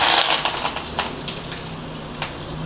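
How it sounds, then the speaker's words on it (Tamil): Mustard seeds and urad dal splutter in hot oil, giving a dense, close run of sharp crackles and pops over a steady sizzle. "என்ன சூடாயிடுச்சுங்க கடுகு போட்டுக்கலாம் கொஞ்சமாக உளுந்த பருப்பு கொஞ்சமாக கருவேப்பிலை"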